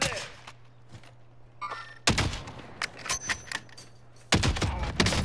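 Video game shooter gunfire comes as heavy, punchy shots: a couple of isolated thuds, then a dense, irregular flurry of rapid impacts and a further loud burst near the end, with no talking.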